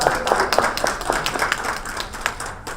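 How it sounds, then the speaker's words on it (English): Audience applause at a talk by an Albany County comptroller, a room of people clapping together in a steady, fairly even patter of hand claps lasting a few seconds. "Everybody else, clap for those people who have their hand up"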